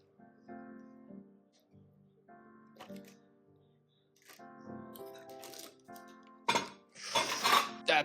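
Food is lifted out of a pan in a kitchen, with light metallic clinks and taps of a utensil against cookware, growing into louder scraping and clattering near the end.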